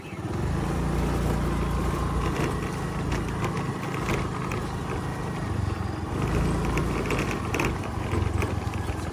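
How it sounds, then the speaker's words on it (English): A 2013 Honda Activa 2G scooter runs with an unwanted noise from its clutch side, a steady, fairly loud mechanical drone with faint rattling that holds for the whole stretch without talk. "this clutch side needs to get serviced because there is some bit of noise coming from there"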